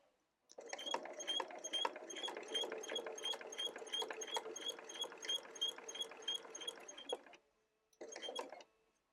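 A sewing machine stitches quilt binding front to back in a steady, rapid run of needle clatter for about seven seconds, pauses, then resumes with a short final burst.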